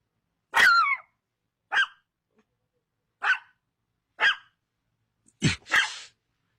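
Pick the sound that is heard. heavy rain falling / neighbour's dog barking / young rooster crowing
neighbour's dog barking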